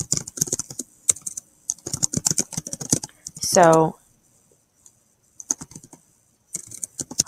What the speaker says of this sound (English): let me finish typing this.